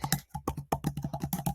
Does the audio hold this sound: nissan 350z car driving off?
no